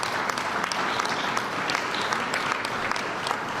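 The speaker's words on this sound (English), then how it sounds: "Can you give them a nice warm round of applause?" Audience at an O'Hare Terminal 3 event gives a warm round of applause for two congressmen, a steady, full crowd clapping sustained throughout without talk.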